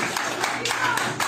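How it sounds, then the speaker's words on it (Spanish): A church congregation claps in steady rhythmic bursts, about four claps a second, forming a full, close wash of applause with no break. "Y den un aplauso poderoso a Jesús."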